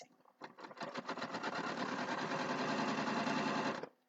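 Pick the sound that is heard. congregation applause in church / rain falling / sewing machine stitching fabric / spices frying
sewing machine stitching fabric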